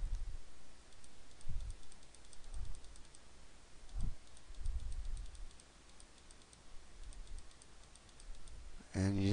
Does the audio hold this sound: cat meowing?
no